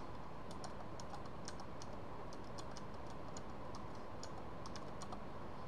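Steady typing of a website address on a computer keyboard: a run of light, evenly spaced key clicks over a constant low background hum, with no voices.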